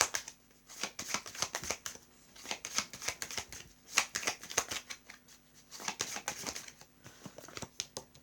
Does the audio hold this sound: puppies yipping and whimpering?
no